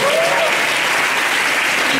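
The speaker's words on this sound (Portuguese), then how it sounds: "Todo mundo bata palmas para a Fabi que vai fazer intercâmbio." An audience claps steadily for Fabi as she is honored for going on a student exchange, a dense, continuous round of applause at close range with no voices.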